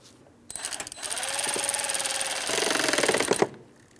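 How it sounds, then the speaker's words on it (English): Bolt on a radiator fan assembly of a 2004-2008 Pontiac Grand Prix 3.8L V6 being tightened, a loud continuous buzzing whir with rapid ratcheting pulses lasting about three seconds before cutting off. "We have our 10mm headed mounting bolt. Start it in, snug it up."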